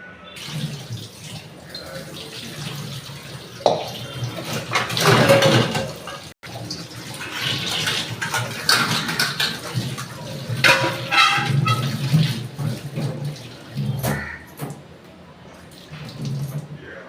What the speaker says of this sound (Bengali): বাসন ধোয়া শেষ হয়ে গেল